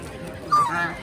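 Raja hash ducks calling at a busy Dhaka-area poultry market, a brief honking call rising partway through over crowd murmur.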